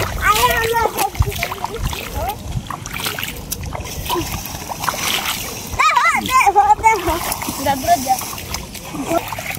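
Someone swims in a river, making splashing water under frequent overlapping voices, including a child's, with excited chatter throughout.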